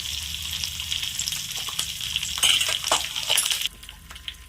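Cumin, mustard seeds, curry leaves and garlic cloves hit hot oil for a raw mango chutney tempering, making a loud crackling sizzle with sharp pops that suddenly drops to a quieter hiss near the end.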